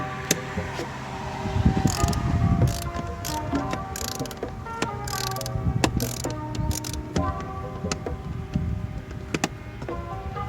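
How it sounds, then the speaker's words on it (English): A ratchet with an 8mm socket backs out cowl screws on a BMW N54 engine bay during a charge pipe install, giving a steady close mechanical clicking and rasping over continuous background noise. "So you want to take your 8mm socket and just start taking off the"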